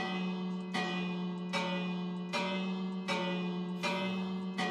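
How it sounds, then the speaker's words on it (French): A Minecraft bell strikes six times at regular intervals, each ring bright and sustained with a long resonant decay over a steady hum. "Regardez un petit peu le son de la cloche"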